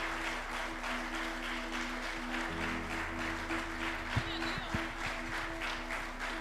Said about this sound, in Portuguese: Palmas, amados, para a nossa amada pastora.